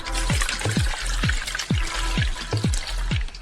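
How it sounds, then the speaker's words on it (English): Pressed red grape juice, freshly squeezed by foot, poured back into a bucket: a series of repeated sloshing pours and splashes, about eight in quick rhythm, close and clear with no talking. "We pour it back into the bucket."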